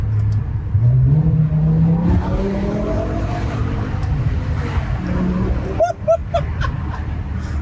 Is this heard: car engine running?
yes